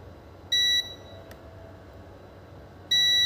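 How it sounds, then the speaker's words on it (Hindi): A multimeter's continuity buzzer, set to buzzer range and probing a shorted capacitor on a vivo Y11/Y12 phone board, gives two clear, steady electronic beeps, each under half a second, separated by a quiet gap with faint background hiss. "इसको हम बजर रेंज पे करके अब कैपेसिटर पे हम चेकिंग करते हैं"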